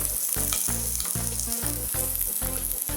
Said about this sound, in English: So both my onion and garlic, it's sauteing at the moment.